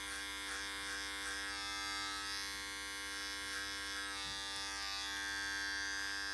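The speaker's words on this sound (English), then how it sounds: "Then I'm gonna take the clipper at a 45 degree angle and just get it off the ears" An electric hair clipper cutting thick, straight hair gives a steady, close buzz with a faint mains-like hum throughout, heard alone with no talking.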